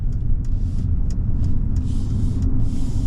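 Mercedes eSprinter electric van accelerating at wide open throttle while climbing a high-elevation paved mountain road, heard as steady close road and cabin rumble with faint periodic ticks and hiss.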